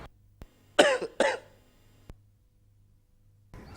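Two sharp coughs in quick succession from a single person, loud and close in a quiet room, followed by a faint tap and some background noise rising at the end.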